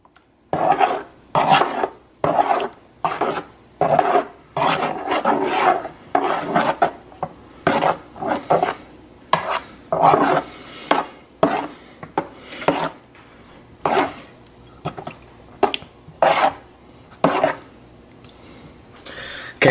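Spoon stirring shrimp cocktail in a bowl, a rhythmic series of close scraping, clinking strokes roughly twice a second, steady and fairly loud, with no talking.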